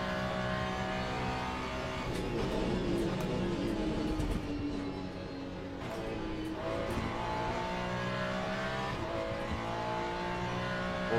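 Ford Mustang GT3 race car in Le Mans Ultimate, its front-mounted engine droning steadily with rising and falling revs through gear changes, sustained at moderate level from start to end.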